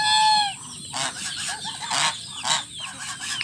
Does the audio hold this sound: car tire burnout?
no